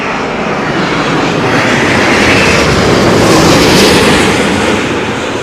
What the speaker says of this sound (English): It's a whistly noise there from 330 Neo.